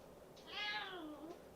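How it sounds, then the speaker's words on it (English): A pet cat meows once, a drawn-out rising and falling cry heard close up and clearly, with a quiet room around it and no talking. "Right now, my cat is joining me."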